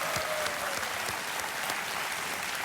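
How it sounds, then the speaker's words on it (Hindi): An audience at a Hindi television show claps in steady applause, a dense, even patter of many hands at moderate distance, unbroken for the whole stretch. "इनके लिए मैं चाहता हूं कि एक बार जोरदार तालियां बज जाए।"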